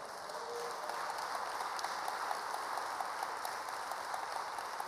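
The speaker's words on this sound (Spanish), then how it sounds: "¿Cuánto le pueden dar un aplauso bien fuerte al Señor?" A church congregation at a Spanish-language seminar claps for the Lord, a steady, moderately loud spread of many hands with scattered sharper claps and no talk.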